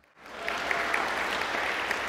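After a brief silence, an audience at a talk with Sadhguru breaks into applause that swells quickly and holds as a steady, moderately distant wash of clapping.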